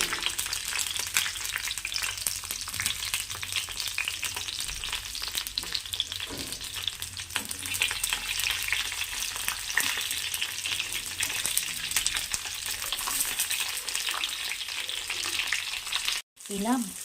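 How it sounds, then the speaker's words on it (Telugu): Bajji mirchi chillies fry in hot oil for a curry, giving a steady, loud, continuous sizzle and crackle that runs unbroken throughout with no talking. "బజ్జీ మిర్చిని బాగా ఎర్రడాలుగా వచ్చేటట్టు మనం వేయిద్దాం"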